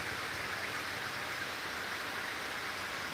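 Steady rain falls in Chittagong, a soft, even, continuous hiss at low level with no voices, distant and uniform throughout.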